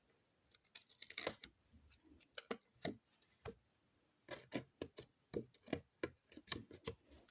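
Paper being cut by hand with a guillotine trimmer or scissors while making a U-bound album, heard as a close series of short, crisp snips and slices in irregular bursts with pauses between them, with no talking.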